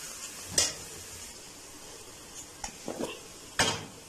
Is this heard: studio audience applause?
no